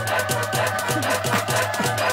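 Two DJ music tracks play at once, badly mixed, so their beats clash in a busy, loud, continuous jumble with no talking.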